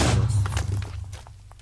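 A heavy video game cannon boom fires at the start, its low thump decaying quickly into a fading rumble with faint scattered noises.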